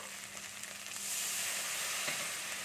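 Spice masala with chilli and cumin powder and a splash of water cooking in a pan, a steady close sizzle that swells louder about a second in and holds with no talk.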